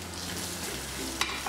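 Spice powders stirred into ginger garlic paste in a hot pan for vegetable kurma give a soft, continuous sizzle close by, with a couple of light scraping clicks near the end.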